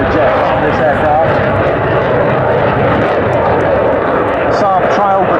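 A Saab 35 Draken delta-wing jet at an airshow, its engine roar a steady, loud, broadband wash throughout, with a voice talking over it.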